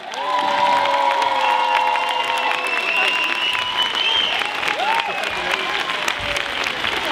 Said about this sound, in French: je demande encore plus d'applaudissements